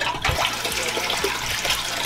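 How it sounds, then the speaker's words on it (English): Toilet in a full bathroom of a house flushing, a steady close rush of running water filling the space throughout, with no talking. "Toilet flushes."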